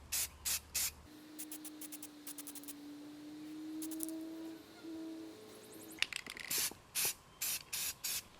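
Short bursts of spray paint apply a primer coat to a sandblasted engine part from a John Deere 110 garden tractor, hissing on and off in a rhythmic series of loud puffs at close range, with a low steady tone between them.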